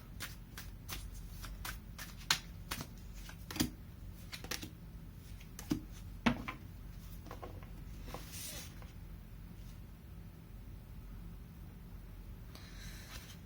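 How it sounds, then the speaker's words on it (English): Tarot cards are shuffled and drawn in a series of quiet, crisp slaps and flicks, irregular and close, with a few sharper snaps among softer rustling and a faint low hum beneath. "Let me pull up some cards here from the universe for you"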